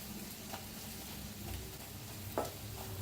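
Chillies fry quietly in a pan with a soft, constant sizzle. A spoon stirs them now and then, giving a few faint scrapes, one of them a little sharper than the rest.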